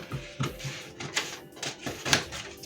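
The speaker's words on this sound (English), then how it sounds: "I'm cutting out my front corset pattern now" Scissors snip through a paper corset front pattern in a run of short, crisp cuts, each a brief papery crunch at close range with small pauses between them.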